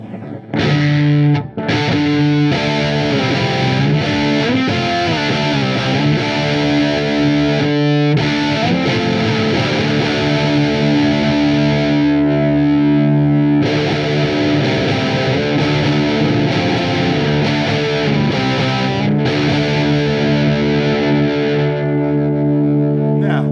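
An EVH Wolfgang Custom Standard electric guitar on the treble pickup with every control at full, ringing out loud, heavily distorted chords that sustain and change with brief breaks between them.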